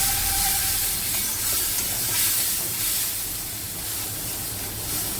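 Spice paste (masala) sautéed with a splash of water in a pan gives off a steady, close hiss and sizzle of steam that holds at an even level throughout, with no talking.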